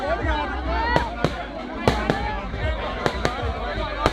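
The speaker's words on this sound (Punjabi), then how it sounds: "ਪਟਾਕੇ ਚਲਾਏ ਜਾ ਰਹੇ ਨੇ।" Firecrackers going off outdoors at a public gathering outside a jail, several sharp loud bangs spaced irregularly over a steady crowd hubbub.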